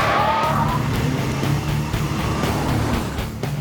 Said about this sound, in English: Both cars accelerate towards the red flag of the engagement zone.